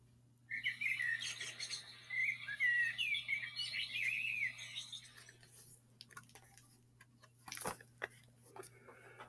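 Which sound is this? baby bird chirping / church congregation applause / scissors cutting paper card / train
baby bird chirping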